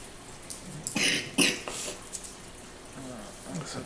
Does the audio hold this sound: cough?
yes